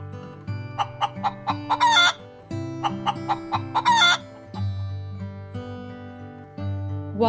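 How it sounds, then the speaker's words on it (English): A rooster crows twice in long rising calls, mixed with repeated clucking from chickens, loud and close with no talk. "Hen,"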